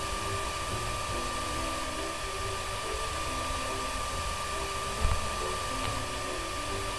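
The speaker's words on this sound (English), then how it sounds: "Just wanted to get around that hairdryer." A hair dryer in the video game I Am Bread runs as a steady, even whirring drone with a faint tonal whine, constant throughout at moderate level, with one brief soft bump partway through.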